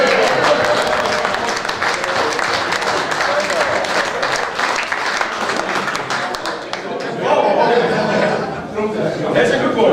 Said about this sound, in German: Klatschen erstmal.